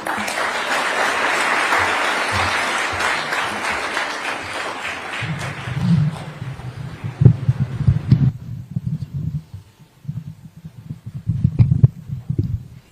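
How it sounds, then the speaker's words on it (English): Crowd applause at a Mazingira Day event after First Lady Rachel Ruto's speech, a loud sustained ovation for several seconds that fades into scattered claps and low rumbling room noise. "Another big round of applause"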